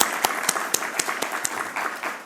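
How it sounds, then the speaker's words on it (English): A conference audience applauds, brisk scattered claps repeating across the room at moderate loudness, with faint murmuring beneath. "I want to give him also warm applause."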